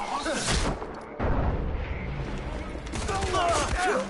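Game gunfire in Far Cry 4: a burst of loud shots near the start, then scattered cracks and rattling later, close and punchy over ambient game noise.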